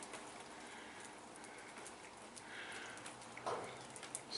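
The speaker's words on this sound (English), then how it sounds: "it's still raining" Rain falls steadily outside a garage, a faint, soft patter that stays even and distant, with no talking.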